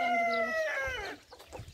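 Chickens cluck and one gives a short crowing call at a small coop in the Karşıyaka neighbourhood of Sungurlu, close and fairly clear, trailing into softer clucks and shuffling.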